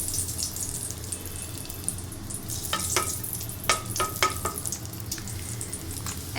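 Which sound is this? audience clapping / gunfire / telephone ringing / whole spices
whole spices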